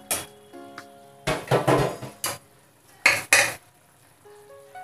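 Fried eggplant goes into boiled potatoes in a pan and gets stirred with a spatula: several loud bursts of scraping and sizzling clatter, separated by quiet gaps with faint tones.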